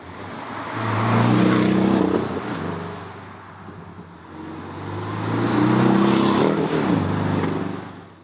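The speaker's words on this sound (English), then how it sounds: "let's give it some speed. Also going to the Sport Plus mode and let's do some nice acceleration" A Porsche 718 Boxster S with the roof open, in Sport Plus mode on a country road, pulls hard twice: a loud engine note climbing in pitch, easing off, then surging upward again, with no talk.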